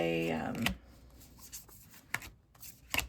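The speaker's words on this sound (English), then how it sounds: "it still has a pretty stiff shuffle" A deck of cards with a stiff shuffle gives a short, crisp riffle at the start, followed by a few soft taps and rubs of the cards.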